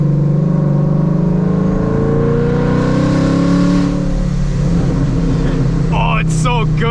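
Loud engine revving from a boosted Mustang with an AWE Track exhaust, a deep throaty note that rises and settles, close by, with a brief voice near the end.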